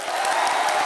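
A television comedy show's studio audience breaks into applause, a dense, steady wash of clapping that is loud and close throughout.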